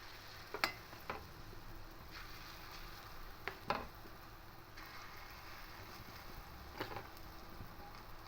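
Mung dal fritters are dropped one by one into hot oil in a wok, a steady low frying hiss broken by a few sharp splashes and clicks as each piece goes in.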